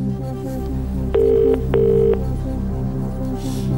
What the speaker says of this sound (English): we'll phone him.